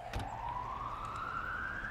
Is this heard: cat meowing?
no